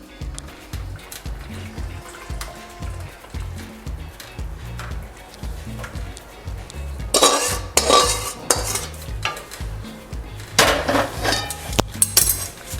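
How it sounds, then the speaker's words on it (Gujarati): A utensil stirs sugar syrup into roasted flour and ghee in a wok for adadiya pak, with steady scraping and thick mixing sounds that grow louder and more vigorous toward the end. "તો આ ચાસણીને આપણે લોટ જે શેક્યો હતો એમાં મિક્સ કરી દઈએ કઢાઈમાં."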